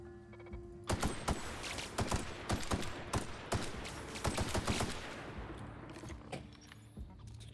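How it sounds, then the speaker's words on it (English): A machine gun in The Outer Worlds fires a long, rapid string of loud, sharp shots, the burst stuttering and thinning before trailing off into quieter background sound. "Machine gun seems to be doing better."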